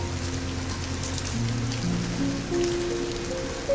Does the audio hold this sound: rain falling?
yes